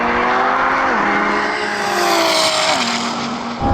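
A Lamborghini screams down a drag strip at full throttle, loud and close, its engine note stepping up through several sharp gear changes as it pulls away, with no voices over it.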